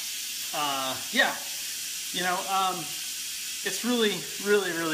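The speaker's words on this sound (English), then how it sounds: "because this is a pressure cooker, I gotta release the pressure" A pressure cooker venting its pressure with a continuous loud steam hiss throughout, while a person talks over it in short phrases.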